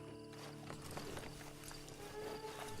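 Horse hooves clip-clopping in Red Dead Redemption 2, a steady walking rhythm of hoof strikes at close range, quiet overall, under faint background music.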